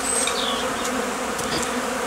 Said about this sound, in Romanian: albinele, bineînțeles, ies astfel din stup